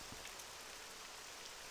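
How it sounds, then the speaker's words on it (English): Rain in the video game Morrowind, a steady soft hiss of falling drops, faint and continuous with no other sounds. "and we're greeted with blessed rain."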